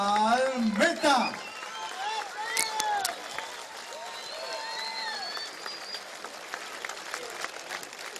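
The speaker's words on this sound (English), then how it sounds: "Generous round of applause for the home fighter." Crowd applauding the home fighter Alberto Palmetta at a 64 kg boxing bout, a burst of clapping and cheers near the start fading into a lower wash of hall noise under a ring announcer's voice.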